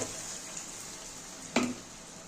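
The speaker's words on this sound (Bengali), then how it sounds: "এবার আমি জল দিয়ে দেব। একটু জলটা একটু বেশি দেব।" Water splashes briefly into a hot pan of spiced fish head curry masala with potatoes, a short hissing burst rising over a steady close sizzle of frying.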